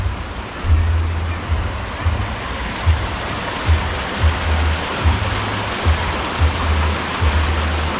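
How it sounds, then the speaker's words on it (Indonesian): A clean natural river rushes among hillside tea plantations at Sirah Kencong, a steady broadband wash of flowing water with faint low thumps recurring every second or so. "wah sungainya bersih guys"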